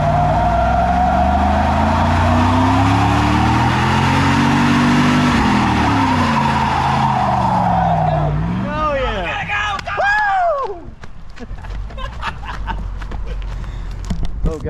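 A Camaro pace car won at the Bristol 1000 roars through a sustained burnout, its engine revving hard as the tires squeal loudly. The squealing comes in sweeping bursts near the end, with crowd noise in the background.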